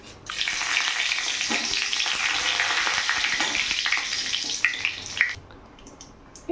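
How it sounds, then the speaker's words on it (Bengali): Cumin seeds and two bay leaves frying in hot oil: a loud, steady hissing sizzle that runs for about five seconds, then drops sharply to near silence with a couple of small clicks. "এখানে দুটো তেজপাতা ফোড়ন দেব"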